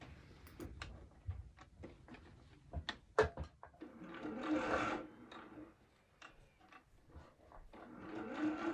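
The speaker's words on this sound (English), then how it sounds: "we're going to sew around the outer edge of the facing on the machine using a slightly longer stitch length" A sewing machine runs along the outer edge of a garment facing at a slightly longer stitch length, making close ticking and rubbing handling sounds followed by two steady bursts of stitching.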